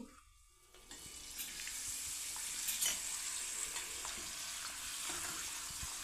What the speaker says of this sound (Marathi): तेल मीडियम गरम झालेलं आहे, आता आपण पापड टाकून बघू।